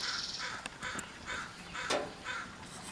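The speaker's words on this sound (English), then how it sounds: "there's Dipper, my crow." A crow caws outdoors on a spring garden walk, giving several harsh calls spaced over a few seconds against a steady breezy background.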